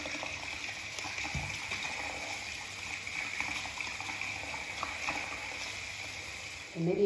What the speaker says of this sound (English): So the sound of water like this, you know, like a blip, blip, that's what gets him going.